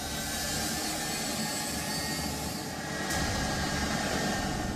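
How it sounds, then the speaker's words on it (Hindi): A US military jet aircraft taxiing toward a runway gives a continuous broad engine roar with a steady whine, constant and fairly loud throughout, with no voices heard. "अमेरिकी सेना का विमान रनवे की ओर बढ़ रहा था"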